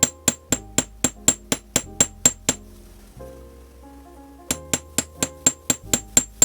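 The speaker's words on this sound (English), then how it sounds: "I'm going to use my metal chasing hammer," A metal chasing hammer taps copper wire flat in quick, even light strikes, two bursts of about a dozen sharp metallic clinks separated by a short pause, close and clear.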